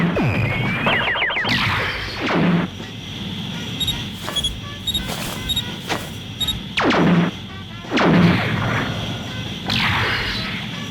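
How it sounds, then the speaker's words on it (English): Spaceship weapons open fire in a space skirmish, a sequence of sharp whip-like blasts and crashing impacts with swooshing sweeps, several bursts spread across the clip, loud and close with no talk. "I'll now open fire."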